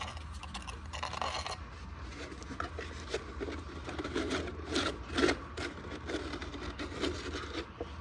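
A small scraper rubs and scrapes material across the inside of a ribbon burner, a continuous close gritty rasping with brief louder strokes.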